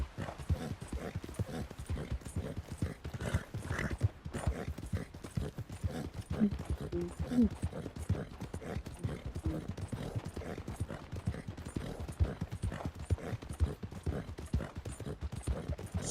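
Horse hooves gallop in Red Dead Redemption 2 as a steady, fast clip-clop that keeps going for the whole stretch. It sounds close and loud against a game soundscape, with no voice over it.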